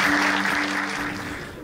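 Applause from a crowd at the Korea Football Association's new emblem launch event, steady and dense, filling the whole moment with no voices on top.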